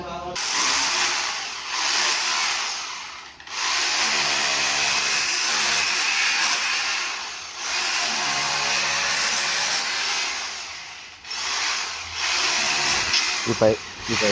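Power tool cutting a channel into a wall for an LPG gas pipe line running from a kitchen to a balcony, a loud, harsh grinding whine held for long stretches with brief breaks, and someone speaks over it.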